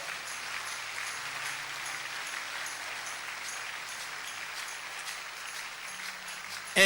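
A church congregation claps together in a soft, steady, even patter that sounds faint and distant and holds for several seconds without a break.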